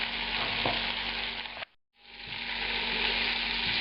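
Chicken cutlets dusted in flour fry in a pan with a loud, steady sizzle that cuts out briefly midway, then returns at full strength, close and without talk.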